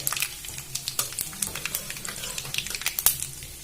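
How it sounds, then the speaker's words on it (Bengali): Dried red chili and black mustard seeds frying in hot oil with cumin as a tempering for spicy semolina, a close crackling sizzle with quick pops while being stirred. "দিয়ে দেবো একটা শুকনো লঙ্কা আর দিয়ে দেবো কালো সর্ষে একটু নাড়াচাড়া করে"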